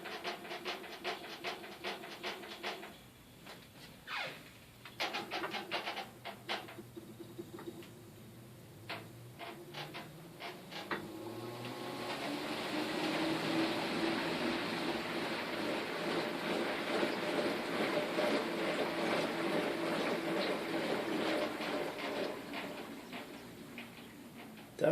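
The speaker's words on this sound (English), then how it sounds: "The suspension bars making a lot of racket as the tub moves back and forth." An LG WT4870CW washer with its tub suspension bars rattling as the tub shifts back and forth, a fast irregular clattering that builds into a steady loud rumble through the second half.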